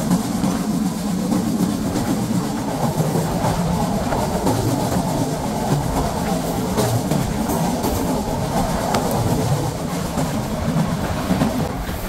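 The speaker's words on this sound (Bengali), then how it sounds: "এখন ট্রেনটি থ্রুপাস করে যাচ্ছে সিঙ্গিয়া রেলওয়ে স্টেশন।" Train running through Singia Junction railway station, a steady loud rumble with wheel clatter on the rails, close and continuous throughout.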